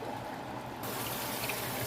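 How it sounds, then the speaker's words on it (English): Water pours from a cup into a cooking pot of mustard greens, a steady close splashing trickle that grows slightly fuller partway through. "Now this is where we add our water."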